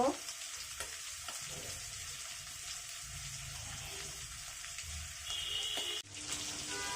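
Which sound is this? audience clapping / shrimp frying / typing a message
shrimp frying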